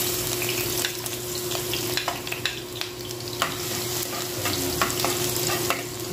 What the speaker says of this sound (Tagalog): Gisa-gisa tayo na.